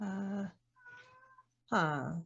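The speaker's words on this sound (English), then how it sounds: "That's my cat." A domestic cat meows twice, close and clear, with a short rising cry, a brief pause and then a longer drawn-out meow. A soft quieter sound comes between the two calls.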